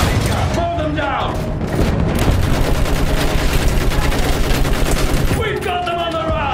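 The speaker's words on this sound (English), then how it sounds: "Use that machine gun! Mow them down!" Sustained machine gun fire from a Battlefield 1 World War I battle, loud, dense bursts over about six seconds, with shouted talk and battlefield noise before and after.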